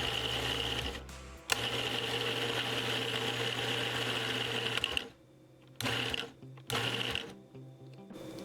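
A food processor chops vegetables for a stuffed grape leaf filling in a home kitchen. The motor whirs steadily for several seconds, then runs in a few short pulses with brief pauses between, and no one talks.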